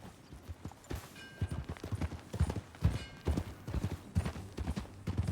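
Steady clip-clop of horse hooves as riders set off together in Red Dead Redemption 2, an even trotting rhythm close by and fairly quiet, with no talk over it.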